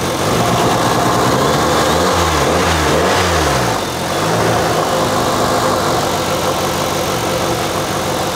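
A turbocharged Honda D16 engine running on E85 idles loudly and blips its throttle through several quick rising and falling revs, then settles back to a steady idle.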